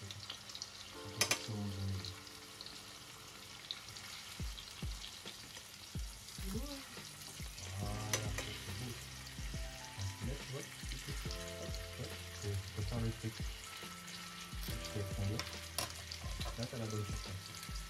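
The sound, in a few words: pepper-marinated steak frying in a pan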